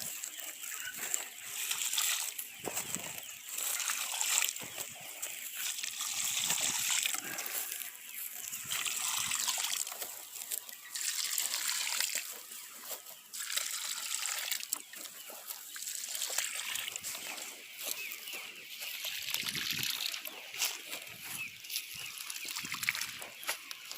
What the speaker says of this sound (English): So now we just pour a little bit on each plant.